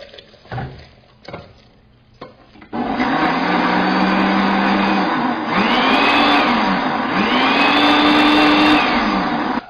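A blender whirs loudly and steadily after a few brief knocks while blending cooked tomato puree, its motor pitch rising and falling in smooth waves as it churns.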